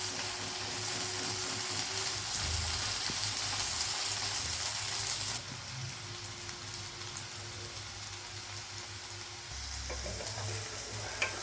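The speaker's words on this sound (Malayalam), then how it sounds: "മീഡിയം ഫ്ലെയിമിൽ വെച്ചിട്ട് നമുക്കിത് ഫ്രൈ ചെയ്തെടുക്കാം." Yam pieces fry in oil over a medium flame with a steady, crackling sizzle throughout. Occasional stirring scrapes and clatters in the pan, and no voice is heard.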